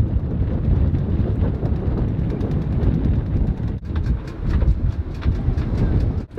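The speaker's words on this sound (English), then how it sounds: "Bloody windy, Zach." Strong gusts of 35 knots or more roar across a boat lying at anchor, a constant, heavy rush of wind with buffeting swells and sharp knocks, and no talking.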